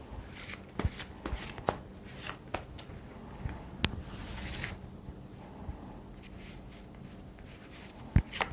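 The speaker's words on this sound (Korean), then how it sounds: "생각하면서 카드 뽑아보도록 할게요" Tarot cards shuffled and drawn by hand, soft close rustling punctuated by scattered sharp snaps and flicks, with no talking.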